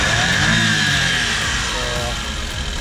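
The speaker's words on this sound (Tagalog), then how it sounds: "So check natin yung power ng turbo natin." A Suzuki Every wagon's turbocharged small engine revs steadily under the open hood, a continuous mid-pitched drone with a bright whine on top that holds for a few seconds, close and loud.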